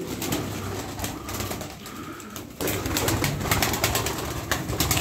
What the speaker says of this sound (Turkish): Bakın burada da kaç tane bismillah 2, 4, 6, 8, 10, 12, 13 tane kuş var.